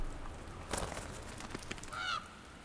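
A bird calls in the video game The Last Door, giving a short honking cry near the end over faint ambient noise and a few soft clicks.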